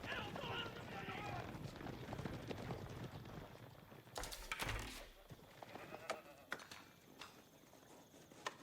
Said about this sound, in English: Cows dutifully walking into their pens.